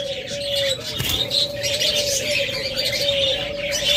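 A lutino red-eye breeding pair of birds calls in a cage, with repeated chirps and soft coos over a steady background hum and one sharp knock about a second in.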